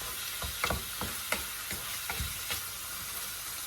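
Shrimp stir-fried with Thai and Korean chili paste in a pan, a steady sizzle broken by a rhythmic series of spatula scrapes and clacks against the pan.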